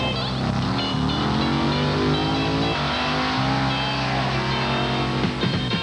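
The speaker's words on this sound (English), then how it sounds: "Ken Kelling in Bigfoot number 1" The Bigfoot number 1 monster truck engine roars at an indoor off-road jamboree, a loud, rough drone with shifting revs that rise and fall, and an announcer's voice mixed in.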